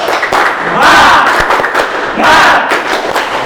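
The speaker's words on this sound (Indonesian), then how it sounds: "Tepuk semangat." A class of students stands and performs a tepuk semangat spirit clap, sharp claps struck in a quick rhythmic pattern while their voices rise together in two loud chanted bursts.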